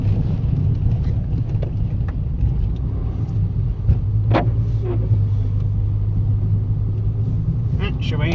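Citroen Saxo rounding a slippery hairpin on a climb, its engine a low steady rumble inside the cabin with brief knocks and clicks, while a voice talks over it.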